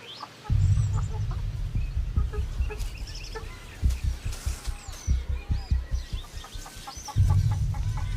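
Chickens clucking inside a chicken coop, a run of close, rhythmic clucks and short calls, with a few sharper squawks over a low rumbling background.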